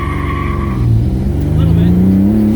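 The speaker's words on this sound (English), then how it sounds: "Second gear burnout." A turbocharged 3800-swapped Pontiac Fiero roars loud and close as it does a second-gear burnout, the engine note climbing steadily under a brief voice.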